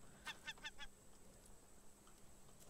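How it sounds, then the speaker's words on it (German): Four quick, faint bird cries, like a seagull in the survival video game Raft, come in a short burst early on against a low background hum. "Oh, die Möwe."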